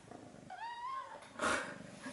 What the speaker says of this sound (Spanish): Hay un lindo gatito que nos da los buenos días y ya está jugando desde por la mañana.